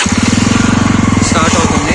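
A 2023 Jawa 42 motorcycle engine, started with clutch pulled and ignition pressed, runs with a steady, close, evenly pulsing single-cylinder thump, loud and continuous for about two seconds with faint voice underneath.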